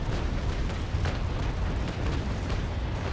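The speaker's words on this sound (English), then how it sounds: "Angling cannons downwards and fire." Broadside of ship cannons firing in Naval Action, a naval battle game, heard as a dense, continuous rumbling boom with overlapping blasts and no breaks, loud and close throughout.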